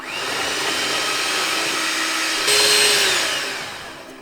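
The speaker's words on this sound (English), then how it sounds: "now using an electric beater, I'm going to beat this for around 3 minutes until it becomes pale yellow" An electric beater whisking cake batter in a bowl, a steady loud whirring motor hum that shifts to a slightly higher pitch partway through and then trails off.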